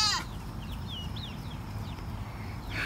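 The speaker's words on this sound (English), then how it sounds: "I'm gonna show you some goats now. You probably hear them in the background." Goats bleat at a farm stable with chickens nearby, a few faint, wavering calls rising and falling over steady low background rumble, somewhat distant, with no talking.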